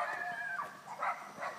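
A dog barks in a few sharp, mid-distance bursts over a steady outdoor background, with no one talking.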